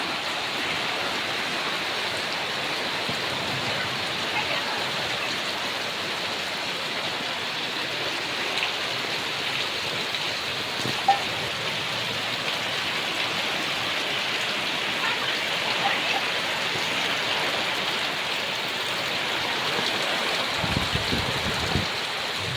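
Heavy evening rain drums steadily on a sheet roof, a dense, continuous hiss that stays loud and even throughout with no voices.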